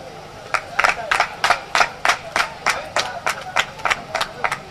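Audience at an artisans' festival in Benin clapping in rhythm: about fourteen sharp, evenly spaced claps in unison, a crisp beat rising from a quiet background.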